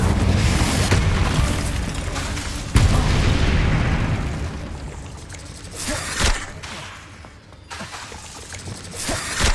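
A loud booming blast from the Confringo explosive spell in the Hogwarts Legacy video game, with a sudden impact followed by a rumbling, crackling decay and further bursts during combat.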